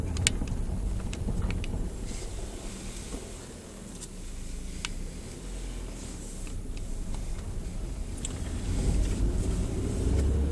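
A Mazda 626 2.0 car driving along a narrow, rough country lane, its steady low engine and road rumble running throughout, mixed with wind noise and scattered faint clicks. Nobody talks.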